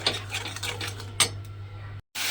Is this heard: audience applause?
no